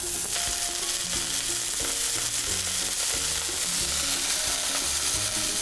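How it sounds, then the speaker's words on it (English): A smash burger patty of hamburger meat sizzles in a hot pan, a steady close hiss that runs the whole time under bouncy background music. "take the ball of hamburger and put it in the middle of your pan"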